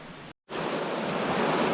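A small creek spills over a little waterfall into a pool in the Great Smoky Mountains, giving a steady, full broadband rush of water close by, broken by one brief dropout near the start.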